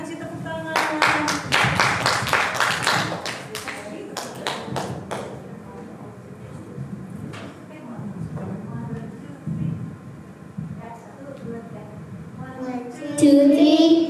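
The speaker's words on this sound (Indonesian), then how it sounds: "Ya, kita kasih tepuk tangan." A church congregation claps for children about to sing at a Father's Day service, with bursts of clapping early on, then a lighter stretch of taps and children's voices, and a louder burst near the end.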